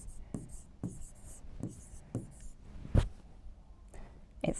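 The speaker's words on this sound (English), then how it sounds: "So I'm going to write the word burger." Pen strokes on a CommBox Classic S5 interactive whiteboard, a series of short scratchy strokes at a steady pace, close and quiet, with one sharper tap partway through.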